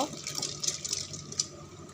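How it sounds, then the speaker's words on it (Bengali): Lentils poured into a pot of hot water on a gas stove, a soft continuous watery splash and rustle up close, heard alone for a couple of seconds. "এখানে যে জল গরম হয়ে গেছে আর এখানে যে ডালগুলো আমি এখন দিয়ে দেব"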